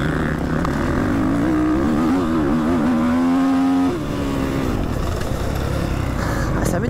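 A 2023 Beta 300 RR two-stroke enduro motorcycle revs loudly and close, its engine note rising and wavering before dropping back to a steady rumble.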